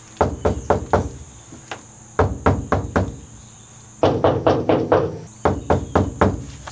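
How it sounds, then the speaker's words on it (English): Knuckles rap on a car body panel lined with sound deadener mat and wood, in four clusters of several dull close knocks each, with a steady insect-like whine in the background. "now this is what it sounds like to knock on this with the wood in place"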